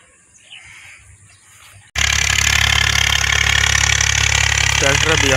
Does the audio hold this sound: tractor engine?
yes